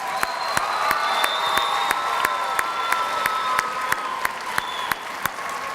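Crowd at a school college and career pathways kickoff applauds guests, dense steady clapping with scattered cheers and whoops, loud and sustained throughout.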